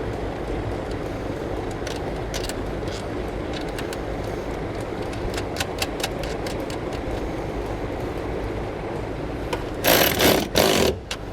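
A ratchet with an 8mm socket removes a nut inside a 2019 Subaru, making quick clicking bursts near the end, with faint scattered ticks before them over a steady background hum.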